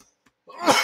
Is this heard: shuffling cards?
no